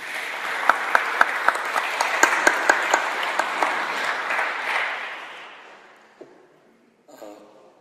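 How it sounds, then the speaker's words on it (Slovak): A church congregation breaks into loud applause with sharp individual claps, which thin out and fade over several seconds to near silence before a brief final rustle. "Môžeme zatleskať Bohu?"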